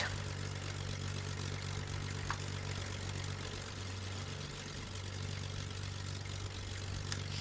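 Twin aircraft engines idle steadily in Flight Simulator X on a VFR flight into Slovenia, a constant low hum with droning tones that holds evenly throughout, without voices.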